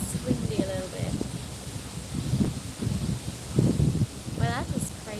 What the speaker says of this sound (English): I know it's windy a little bit